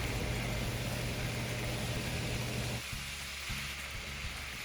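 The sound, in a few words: onion whites and mushrooms frying in vegetable oil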